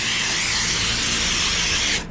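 A pressurized water spray blasts through a commercial HVAC condenser's microchannel coil, a loud, steady hissing rush that holds unbroken for about two seconds before cutting off abruptly at the end.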